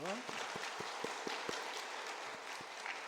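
Church congregation applauding at a New Year's Sunday service, a steady wash of many hands clapping with a few sharp, distinct claps standing out near the front and a voice speaking over it.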